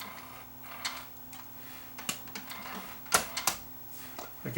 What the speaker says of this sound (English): when I press the button to unload the magazine